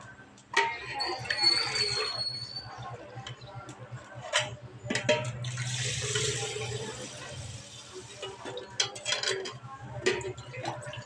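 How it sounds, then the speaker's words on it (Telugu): Water pours and splashes into a metal pot in bursts, with clinking of vessels and some faint talk nearby. "ఇప్పుడు రెండు గిన్నెలు నీళ్ళు అయితే పోసుకోవాలి"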